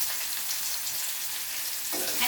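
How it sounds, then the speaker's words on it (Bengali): Chopped onion pieces fry in hot soybean oil with warm spices for a chicken dish, a steady close crackling sizzle that swells slightly near the end, with no voices. "এখন এ পর্যায়ে পেঁয়াজ কুচি দিয়ে দিচ্ছি"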